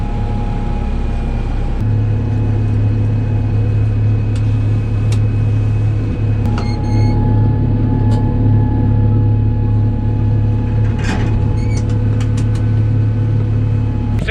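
A Kubota tractor engine runs at a steady idle on a farm during corn harvest, with a constant low rumble close by and a few faint clicks and clanks above it.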